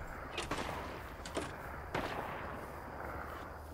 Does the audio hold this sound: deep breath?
no